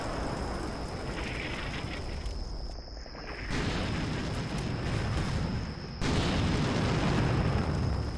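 Tank ammunition cooking off in Combat Mission Shock Force 2, a continuous rumbling roar of blasts with sudden jumps in loudness and a steady high insect-like whine running through.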